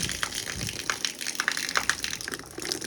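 Hot water gushes through a drain, flushing out gutter debris in an irregular, splashy rush with small crackling bursts, fairly close and steady, no voices.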